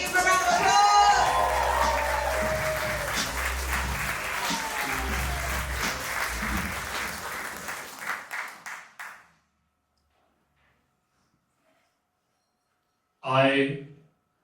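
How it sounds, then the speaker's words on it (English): An audience applauds a performer walking onto the stage at a live poetry slam show, with sustained loud clapping and a few cheers that taper off into silence before a voice begins speaking. "Give him a round of applause."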